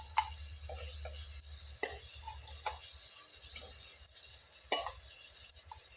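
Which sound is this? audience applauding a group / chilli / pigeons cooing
chilli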